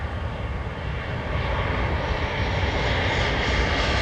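A Ryanair or British Airways passenger jet passes overhead near Lanzarote, a broad steady engine roar that swells slightly louder as it goes, heard outdoors with no talking.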